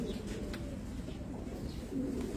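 Pigeons on a rooftop in Abu Dhabi give soft, low cooing calls over a faint steady background hum, fairly quiet and close by.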